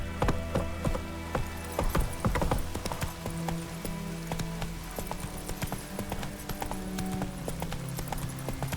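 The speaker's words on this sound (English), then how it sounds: "Run, Roach." Horse hooves clip-clopping at a run in The Witcher 3, a steady close rhythm of hoofbeats with a brief whinny and other game sounds underneath.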